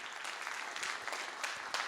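An audience clapping hands at a church service, a dense, fairly faint burst of applause lasting a couple of seconds.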